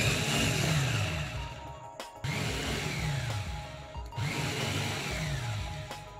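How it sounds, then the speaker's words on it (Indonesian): A Mitoshiba multifunction chopper blends batter for dadar gulung with a steady, loud motor whir, broken by brief dips in the drone around every two seconds as the blades churn. "saya menggunakan chopper multifungsi dari Mitoshiba untuk memblender adonan agar benar-benar tercampur rata"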